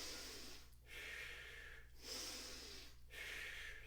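Steady breathing during a yoga block exercise, long airy exhales and inhales alternating in an even rhythm, close and quiet over a low constant hum.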